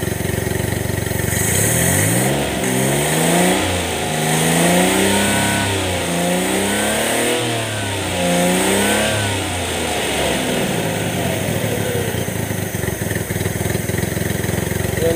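A Suzuki F6A carbureted car engine, choke fully open, rumbles close by and revs repeatedly in rising and falling surges, then settles back to a steady idle.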